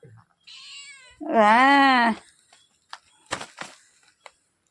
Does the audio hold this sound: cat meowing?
yes